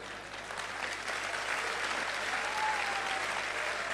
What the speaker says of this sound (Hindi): अब रुक जाओ, ताली बजाने वाली बात नहीं है।